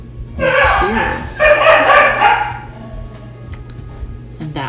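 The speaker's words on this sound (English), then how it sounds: "that was one of my dogs. This is why I do a voiceover, because I have 3 weenie dogs" A small dachshund yips and barks in a couple of quick high-pitched bursts, close and loud, followed by quieter whimpering noises and faint indoor sounds.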